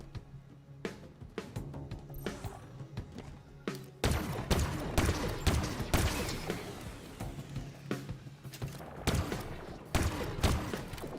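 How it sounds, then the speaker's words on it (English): Sniper rifle shots in the Halo Infinite campaign: sharp, heavy cracks fired at irregular intervals, with a sparse quieter stretch at first and then a run of louder, closer blasts mixed with impacts and game effects. "Oh yeah, sniper rifle."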